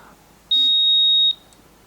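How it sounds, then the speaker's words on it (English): One clear high low-signal warning beep from a Tyrannus FPV receiver, flying a Jumper X73S mini brushless FPV quadcopter far out, sounds for just under a second against quiet background hiss. "That Tyrannus is beeping just because it's a low signal way out there."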